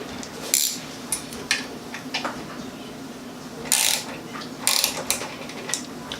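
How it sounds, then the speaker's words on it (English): A ratchet with a 3/4 inch socket loosening the fairing bolts on a motorcycle, giving close metallic clicking bursts in short runs separated by pauses, over a steady background hum. "for these bolts right here, you're going to need a 3/4 inch socket."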